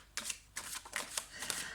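Tarot cards being shuffled by hand before a reading, a few quick riffling bursts close by with short pauses between them, fairly quiet with no voices.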